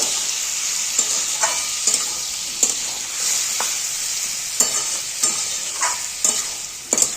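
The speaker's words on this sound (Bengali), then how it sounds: "এইটাও মশলার সঙ্গে ভালো মতো, আলু মশলার সঙ্গে ভালো মতো কষিয়ে নেব" Half-boiled bottle gourd and potato fry with spices for an old-style lau chingri, a constant sizzle broken by sharp scraping stir strokes that come about once a second, close and fairly loud.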